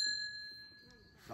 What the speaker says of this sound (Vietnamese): Chuông là chuông Nhật rất kêu.